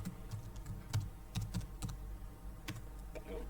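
Keys clatter as someone types on a computer keyboard, a quick irregular run of light clicks close by for a few seconds, with no talk.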